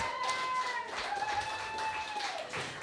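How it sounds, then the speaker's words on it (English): Audience applause for contestants at an outdoor mountain fair singer-songwriter competition, a scattered, fairly light clapping with individual claps audible, accompanied by a faint sustained tone or whistle. "Let's give all of our contestants one big round of applause."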